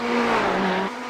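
A Ferrari GTE race car at Sebring International Raceway in iRacing, a sustained high-revving engine drone with a steady tonal whine that drops in pitch near the end as the car lifts off.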